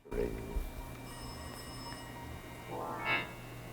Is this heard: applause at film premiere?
no